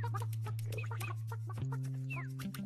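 Cartoonish chicken clucks from the video game Burly Men at Sea, apparently voiced by a person imitating the birds, come in short repeated bursts over a steady low hum and game music.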